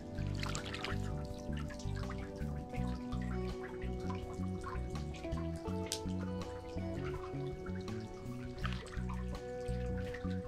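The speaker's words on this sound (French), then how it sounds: "Écoute le bruit de l'eau." Water trickling and dripping at the Lac de Vouglans in winter, where small cave-like hollows sit along the shore: a steady, close babble with many overlapping drips and splashes and no talking.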